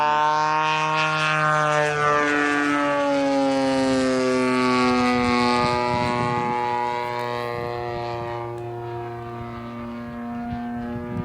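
A Top Flite giant-scale P-40 model airplane flies overhead, its engine giving a loud, steady droning buzz that shifts slightly in pitch as it passes, with no talking.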